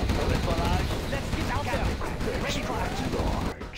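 Chain gun fire rattling in a Command and Conquer Generals Zero Hour 3v3 battle on the Twilight Flame map, dense continuous gunfire and explosions under someone talking over the game action.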